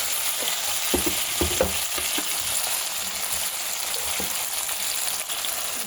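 Tomatoes sizzle in a hot pan with panch phoron spices, stirred around so the steady frying hiss is broken by scattered scraping clicks, close and continuous, with no talk.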